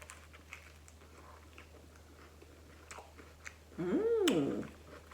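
A bite of a raw vegan lettuce wrap taco is chewed close to the mic. Soft crunchy biting clicks lead into a short, louder burst of wet chewing near the end.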